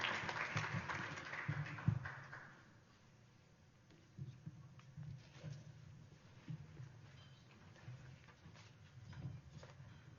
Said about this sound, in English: Give Father Greg an applause